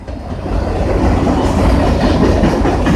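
A train pulls out of Kingston station with a loud, steady low rumble and rhythmic clickety-clack of rolling wagons, building up in the first half second and then holding strong close by.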